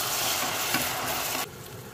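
Butter sizzles hot in a pan for a poached cod with pineapple sauce, a dense steady frying hiss that cuts off sharply partway through, leaving a quieter background.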